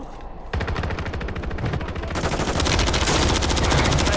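Heavy automatic gunfire in Call of Duty rattles out in rapid continuous bursts, loud and close, growing denser and more sustained toward the end with no talk over it.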